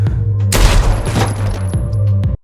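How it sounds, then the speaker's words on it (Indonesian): Gunshots ring out in a film scene as a detective fires at an attacker from behind: a dense burst of overlapping shots over a loud, rumbling score, then an abrupt cut to silence. "dari belakang muncul detektif Dennis dan langsung menembak pelaya"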